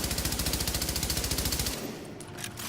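A light machine gun fires in the video game Tom Clancy's The Division, a rapid, evenly paced burst of loud shots lasting under two seconds before stopping abruptly.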